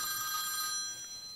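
A telephone rings with a steady electronic tone, loud and close for a brief burst, with no voices over it.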